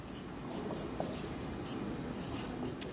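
A marker or chalk scratches across a board during a chemistry lesson, writing out acid names in faint, short, dry strokes against a quiet room.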